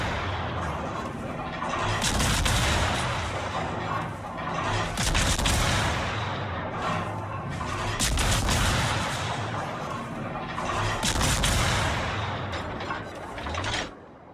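Naval guns fire in repeated heavy booming salvos across the battle in World of Warships, each blast loud and close with rumbling tails, with no talk over the shots.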